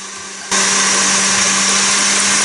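A stand mixer whisk whipping Italian meringue for macarons switches on abruptly and runs as a loud, steady, high-pitched whir with a constant motor hum, close up and continuous.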